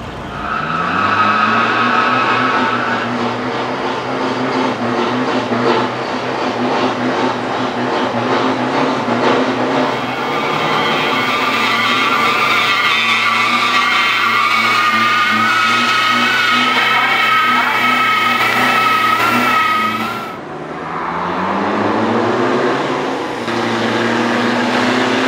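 A turbocharged ambulance launches in a drag race in Thailand, its engine running with a titanium exhaust. It revs hard and holds a loud, sustained roar with a brief gear-change dip near the end, with no talking.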